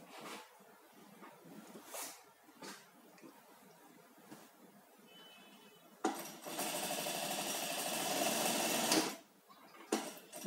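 Sewing machine stitching sweatshirt fabric, preceded by quiet fabric handling and light taps, then a loud, steady whirring run of about three seconds that stops abruptly, followed by more handling.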